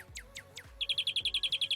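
Virtual birds in a Second Life world sing close and clear: a few descending chirps, then a fast run of bright, evenly spaced tweets, with no talking.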